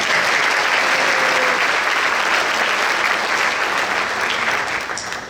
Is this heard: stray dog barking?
no